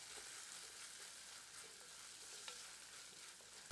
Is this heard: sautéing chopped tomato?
yes